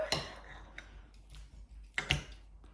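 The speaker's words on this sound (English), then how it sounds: "I just need a knife and fork. We can chop into it and see how well it's cooked for you." A knife and fork cut into an air-fried rump steak on a plate, giving a couple of faint metallic clinks and scrapes against a quiet room background.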